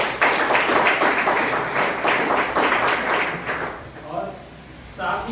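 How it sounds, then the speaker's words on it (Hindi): An audience at a team business training meeting claps loudly and steadily for about four seconds, then the applause fades and voices start up near the end. "सम्मान में जोरदार ताली हो जाए।"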